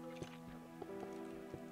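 Water drips inside a cave in a video game, sparse faint plinks at irregular intervals over low sustained ambient tones, quiet and distant.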